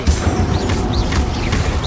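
Incendio fire spell cast in the Hogwarts Legacy video game, a few bright whooshing sweeps rising and falling over a steady rumbling bed of combat noise, with no talking.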